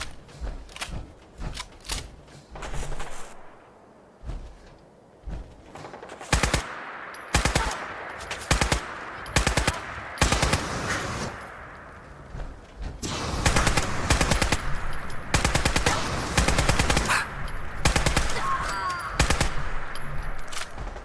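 Gunfire from the hip in Fallout 4, repeated sharp bursts of shots in clusters and longer rapid strings, loud and close, with brief gaps between volleys.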